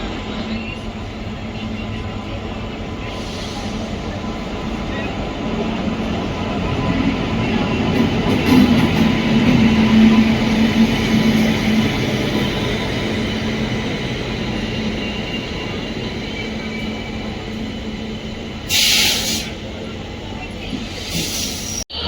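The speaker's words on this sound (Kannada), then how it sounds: "ಪ್ಲ್ಯಾಟ್ಫಾರ್ಮ್ ನಂಬರ್ 3ಗೆ ಎಂಟ್ರ್ ಆಗ್ತಿದೆ ಬೆಳಗಾವಿ ಸೂಪರ್ಫಾಸ್ಟ್ ಎಕ್ಸ್ಪ್ರೆಸ್" The Belagavi Superfast Express 20653 rolls into platform 3 on a mixed rumble of wheels and carriages that swells in the middle and then eases, heard from a station platform under constant ambient noise.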